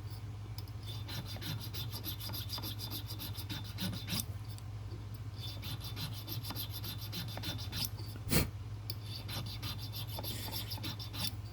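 A file cutting a slot in a tobacco pipe stem, a steady rhythmic rasp of repeated strokes, close and moderately quiet over a low hum, with one sharp knock.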